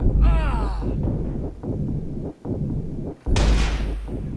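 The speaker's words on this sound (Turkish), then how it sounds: "Yani adamlar silahları yetmedi. Bomba atıyorlar arkadaşlar." A bomb blast in the Watch Dogs video game, a loud booming explosion with a rumbling tail. A second heavy blast follows near the end, and everything is played at close range.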